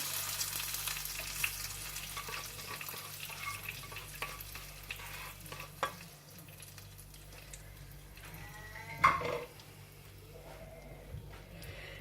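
Hot oil tempering for Peshawari chicken sizzles and crackles steadily, with a sharper pop and spatter partway through, close by and with no voices.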